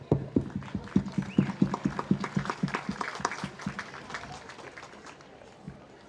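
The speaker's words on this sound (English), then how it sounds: "Let's give a round of applause to everyone and thank all our volunteers" Applause for volunteers at a lakeside town parade, a rhythmic burst of hand claps that fades gradually, with a few voices talking faintly beneath it.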